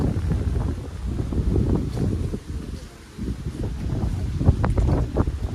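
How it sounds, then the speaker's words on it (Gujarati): Gusty wind in a lemon orchard buffets the microphone with low rumbling bursts that rise and fall, briefly easing before picking up again, loud and close. "પવન જોવો ઉડે."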